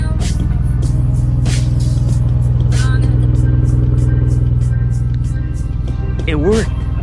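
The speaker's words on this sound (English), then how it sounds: "It worked. It fucking worked. It was the fuel pump relay this whole time. The car's on, guys. The car is on." Mitsubishi Lancer Evo 9 MR engine idling loud and steady close by, with a slight rise and settle near the end and excited voices talking over it.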